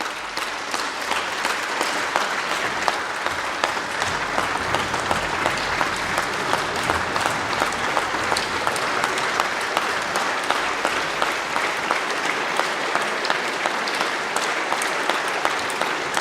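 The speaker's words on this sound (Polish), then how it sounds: "Wasze uprzejme oklaski" A large audience at a political speech in Poland gives steady, dense applause that runs unbroken at an even level from start to finish.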